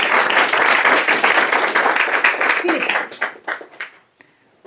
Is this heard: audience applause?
yes